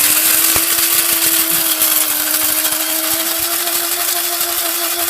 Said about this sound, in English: before they hear the noise of the grinding machine